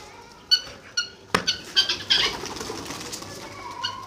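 Pigeons in a backyard pet setup flap their wings in several quick bursts, close and fairly loud, with a soft coo or call mixed in and rustling between the flaps.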